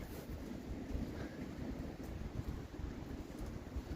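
Steady wind rushing and buffeting a microphone in snowy weather, a low continuous roar with gusts, no voices.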